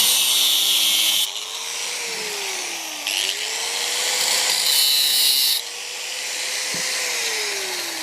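A waste barrel being cut with a power tool while making a DIY chair. A steady, loud whine runs throughout, with its pitch shifting slightly as the cut goes on. There are brief dips and bursts as the blade bites.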